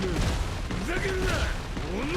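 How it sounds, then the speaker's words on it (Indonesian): In the One Piece Fighting Path video game, a skill makes a rock explode. Dense, booming blasts and crackling effects rumble continuously under a voice that talks over the game. "Nah, si batunya itu akan ikut meledak."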